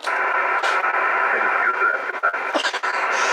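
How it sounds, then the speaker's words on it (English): A voice sent to the moon by a large radio dish and echoed back, heard as a filtered, radio-like voice with a narrow band and crackle, sustained and fairly loud throughout. "What you just heard is a true space echo."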